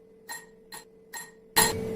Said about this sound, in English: 4 to 5 ice cubes.